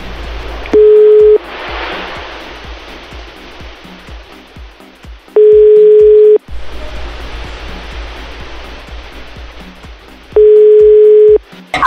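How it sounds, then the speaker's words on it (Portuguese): A telephone call being placed: a steady ringback tone sounds in three evenly spaced beeps over a loud rushing noise like surf, with soft clicks in between. "E agora vamos ligar para a Aline."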